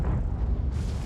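A heavy boom from a tank gun in World of Tanks, a deep, sustained low rumble filling the moment, loud and close, with no voices over it.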